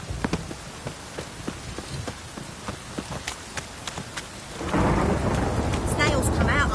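Video game rain hisses steadily while sharp thunder cracks strike repeatedly, the storm swelling louder and denser in the final seconds.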